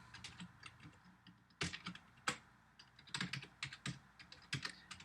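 Quick, light keystrokes on a computer keyboard as code is entered, coming in irregular bursts with brief pauses. Close and soft, with nobody speaking.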